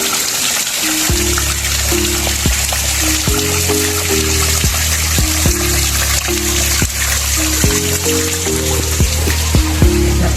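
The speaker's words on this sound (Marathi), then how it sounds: "बघू शकता सगळीकडे गळतंय." Heavy monsoon rain pours down while water leaks through gaps in a roof where the sheets have shifted. A steady, loud hiss of rain and dripping continues throughout, with a melodic tune playing over it.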